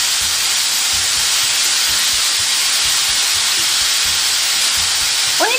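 Salted meat searing in a hot pan for a grilled-meat tofu salad, a loud, steady hiss close up that runs unbroken throughout, with no voices.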